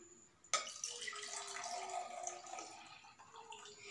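Water being poured off settled sediment in a simple decantation demonstration, a continuous soft splashing trickle starting abruptly and running steadily at close range without talk.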